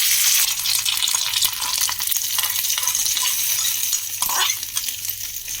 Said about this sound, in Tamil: இப்போ கடுகு நல்லா பொரிஞ்சிருச்சு, உளுத்தம்பருப்பு பொரிஞ்சிருச்சு.